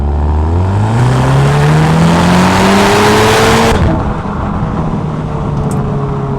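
A 2017 Audi TTS 2.0 TFSI Black Edition with S tronic and quattro accelerates hard along a straight road. The engine note climbs steadily through the revs, then drops away as the driver lifts off, and the engine settles to a lower hum.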